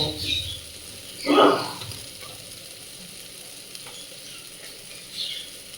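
Raw green papaya fries in a pan, a low steady sizzle broken by one louder burst of stirring and a few faint clinks, with quiet background noise throughout.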